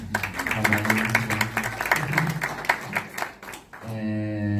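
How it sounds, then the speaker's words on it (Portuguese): Applause at a cinema club debate on football and affection, greeting photographer Vitor Novaes: a steady patter of hand clapping from a seated audience throughout, with a voice or music tone rising near the end. "Uma salva de palmas, gente."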